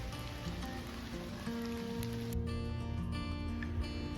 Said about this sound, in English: The rain started coming down as I approached the entrance to this provincial park.